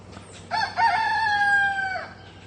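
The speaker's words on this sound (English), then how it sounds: "Crow on, rooster." A single rooster crow, loud and close, rising then holding a long strained note before trailing off, over a low outdoor hum.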